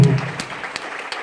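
Worshippers at a church service in Dar es Salaam clap in a short, sparse run of a few distinct claps, moderately loud, after a brief vocal sound at the start.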